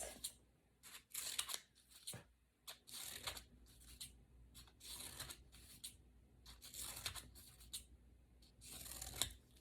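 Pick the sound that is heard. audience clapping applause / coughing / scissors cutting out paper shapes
scissors cutting out paper shapes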